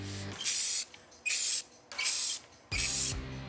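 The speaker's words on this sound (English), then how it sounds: "When you're ready to spray, keep the can upright at least a foot and a half away from the surface" Rust-Oleum auto wheel paint sprays from an upright aerosol can in four steady, evenly spaced hissing bursts, each lasting about half a second, close and fairly loud, with brief quiet gaps between passes.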